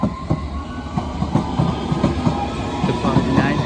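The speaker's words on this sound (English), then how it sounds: "Departing now, Hammersmith City line service to Hammersmith." A London Underground Hammersmith & City line train departs Barking station with rhythmic clickety-clack of wheels over rail joints and a steady rumble, loud and close, with faint voices in the background.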